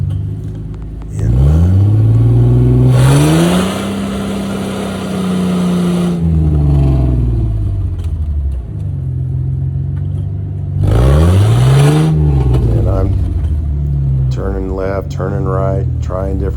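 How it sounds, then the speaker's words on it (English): A Willys Jeep engine on NDT tires revs hard while digging into mud, rising and falling in long loud surges with a throaty, close rumble, and a voice talks over it near the end. "turning right, trying different angles, giving it a lot of horsepower here"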